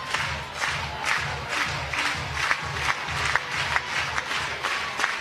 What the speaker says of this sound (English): Crowd comes to life.